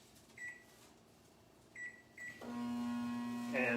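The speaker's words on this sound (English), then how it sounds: "we're just going to pop this water in the microwave for a second" A microwave oven heating water beeps briefly a few times, then starts up with a steady, close hum that runs to the end, where more beeps sound.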